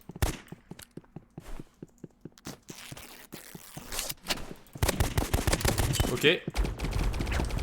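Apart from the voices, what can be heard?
gunfire in the Roblox video game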